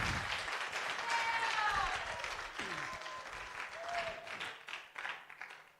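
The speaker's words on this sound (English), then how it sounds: "Give Rebecca a round of applause." An audience applauds a staff member at a professional behavior session, a dense burst of clapping that fades out, with voices calling and cheering over the claps.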